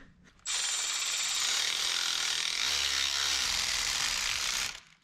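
Tightening a cross-threaded car bolt with a wrench, a harsh continuous ratcheting grind that starts abruptly, holds for about four seconds, and then stops, loud and close.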